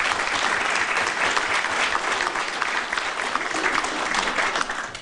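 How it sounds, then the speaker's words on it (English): An audience at an annual board of directors meeting claps warmly for the board members, a steady crowd applause of many hands that runs for about five seconds and fades near the end. "So I'd like everybody to take again and applaud for these, for the great work that they did this past year."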